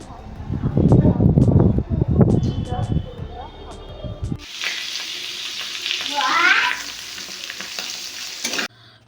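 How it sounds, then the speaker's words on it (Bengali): Pumpkin slices frying in a pan for breakfast, with someone talking over the cooking at first, then a steady close sizzle and hiss with a few spatula scrapes continuing on their own. "সকালের জন্য আমি এই কুমড়ো ভাজা করছি"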